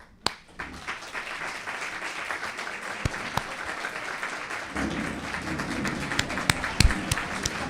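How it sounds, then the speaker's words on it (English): Graduating internal medicine residents receive sustained applause from a seated audience at a graduation ceremony, a steady wash of many hands clapping that thickens and grows slightly louder toward the end, with a few sharper claps standing out. "we want to give them a great round of applause"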